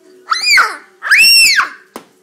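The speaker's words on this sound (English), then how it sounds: "Why is he screaming?" A child's two drawn-out, high-pitched screams in quick succession, loud and close, followed by a brief sharp sound, heard at home during play.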